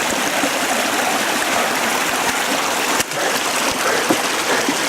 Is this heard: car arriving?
no